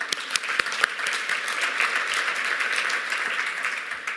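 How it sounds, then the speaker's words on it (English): Conference audience applauding pitch contestants, a dense burst of clapping that stays lively and even for a few seconds. "Let's give first round of applause to every single pitch contestant here."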